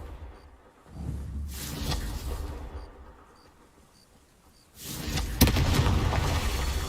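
In the video game Hogwarts Legacy, the Confringo blasting spell detonates twice in booming, shattering bursts, each a loud fiery explosion with crackling debris, separated by a quieter lull.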